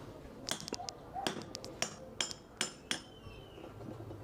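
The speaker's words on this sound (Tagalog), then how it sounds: "Tapos paluin lang po ng martilyo." Several sharp metallic hammer strikes on a small DIY tool used to replace a bushing, irregularly spaced, each with a brief ringing tail, over faint background noise.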